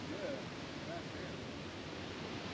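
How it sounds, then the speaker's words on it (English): A waterfall along the motorcycle ride to Mount Washington gives a steady, broad rushing roar at moderate distance, even and unbroken throughout. "Listening to the waterfall, the rumbles of the motorcycles."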